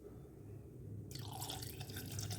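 Plain water is poured into a pot of Malvani-style crab curry, starting suddenly about a second in and continuing as a bright, close splashing stream, with no one talking.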